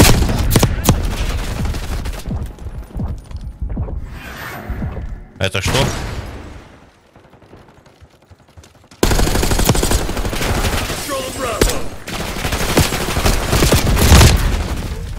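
Rapid bursts of Call of Duty: Black Ops 6 beta gunfire crackle through the opening seconds, drop out briefly, then return with continuous shooting and booms while a voice speaks over it.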